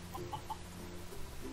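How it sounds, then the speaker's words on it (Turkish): Chicken in the Mini World survival game gives a few short, faint clucks at an even pace over a low steady background hum. "O ses neydi lan? Tavuk mu düştü?"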